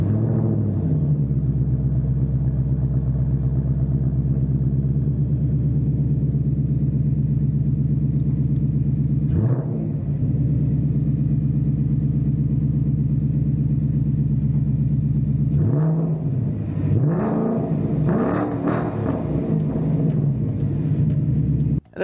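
2024 Ford Mustang V8 with an early MBRP exhaust kit idling with a deep, steady rumble, broken by a few sharp revs that swell and fall away, close and loud.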